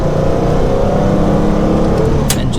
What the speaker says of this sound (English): The engine sounds fabulous.